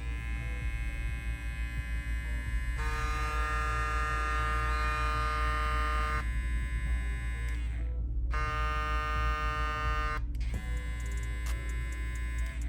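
A JRL Onyx hair clipper runs loud and close with a strong vibrating buzz, its pitch steady while the tone brightens and dulls as it is handled, with two brief cutouts near the end.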